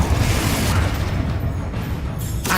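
A Confringo explosive spell cast in Hogwarts Legacy bursts as a dense, rumbling blast that fills the short moment, loud and close, with low booming energy tapering off toward the end.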